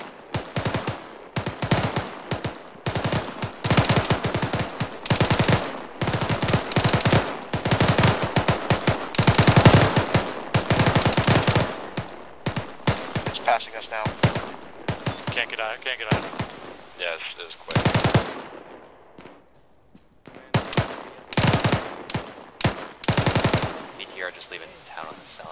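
Rapid autocannon bursts from a BRDM armored vehicle in the Arma-style combat game, loud repeated volleys of sharp shots with brief gaps, with radio-style voices talking over parts of the firing.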